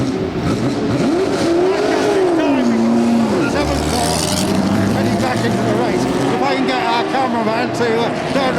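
A racing car, a Ford GT40-era machine at the Donington Historic Festival, roars loudly with a rising and falling engine note that swoops up and down, then settles into a steady drone, while a commentator talks over it throughout.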